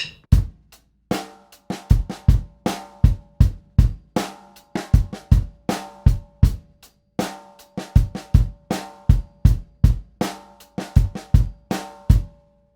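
Drum kit plays a two-bar rock groove, a Trinity Rock & Pop Grade 3 piece, played twice: steady kick, snare backbeats and hi-hat hits in a tight, loud, even rhythm with no talking.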